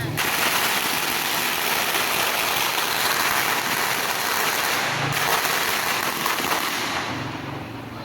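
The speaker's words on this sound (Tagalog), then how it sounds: "Madami silang mga paputok." Dense, continuous crackling of firecrackers popping rapidly, loud and sustained, with a few voices faintly underneath.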